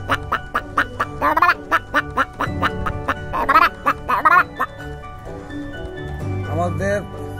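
A voice mimics the call of a wild jungle fowl with a run of sharp, repeated crowing-like cries in quick bursts. A pause follows, then another shorter volley of calls, loud and close.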